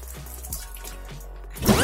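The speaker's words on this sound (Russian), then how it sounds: "А теперь будем поить скважину." Water is poured down into an Abyssinian well being started up after winter, with sparse drips and trickles followed by a louder splashing gush near the end.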